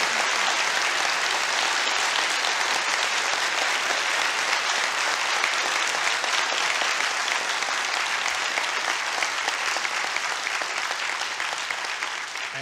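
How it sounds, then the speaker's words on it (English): A large auditorium audience applauding after a presentation at a formal debate, a dense, sustained roar of clapping that holds steady and alone for over ten seconds before easing slightly. "We can applaud Mr. Ham's presentation"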